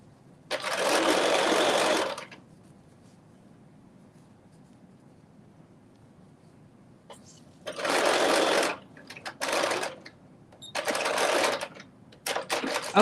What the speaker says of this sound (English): we're doing the last little bit of stitching, basting this together